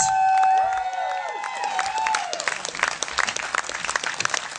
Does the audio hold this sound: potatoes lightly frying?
no